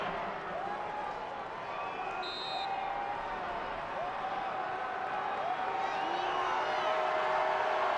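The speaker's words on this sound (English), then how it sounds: "And listen to this crowd. They want a shutout." A football stadium crowd in Pittsburgh roars steadily in the distance during an NFL game, a broad, sustained wash of cheering under a commentator's voice.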